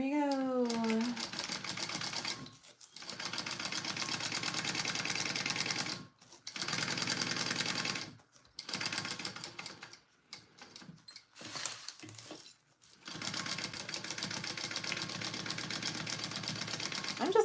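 Sewing machine back stitching over a pleat on a petite rolltop backpack, running in steady rapid bursts separated by short pauses, loud and close with occasional quiet talk.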